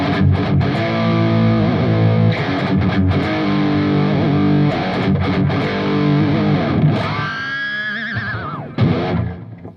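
An electric guitar played loud through heavy distortion, chugging sustained chords and riffs with brief gaps, ending in a bending, wailing note that fades out; no talking.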